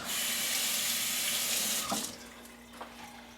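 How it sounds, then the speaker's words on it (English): A basting paintbrush used for smoked ribs is rinsed under a running kitchen tap: a steady, close rush of water for about two seconds, then the flow cuts off, leaving a few faint drips and quiet handling. "Rinse that off."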